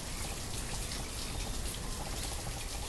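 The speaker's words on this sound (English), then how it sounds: "that rain's making it hard to see" Steady rain in the video game Banished falls as a dense, even hiss of raindrops that continues without a break.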